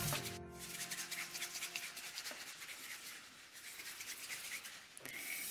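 Oyumaru moldable plastic being rolled into a ball between cold hands, giving a soft, continuous close-up rubbing and squishing texture with faint scratchy friction, steady throughout and alone without talk.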